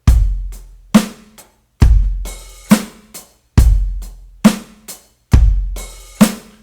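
A steady drum groove with punchy kick and snare hits, an open hi-hat splashing just before each snare, repeating in a tight loop.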